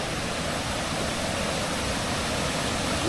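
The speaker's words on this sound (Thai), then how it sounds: "ด้านล่างของน้ำตก" Constant roaring rush of a waterfall heard from its base, a broad, even wash of falling water up close without pause.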